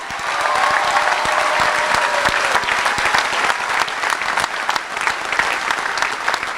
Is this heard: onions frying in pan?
no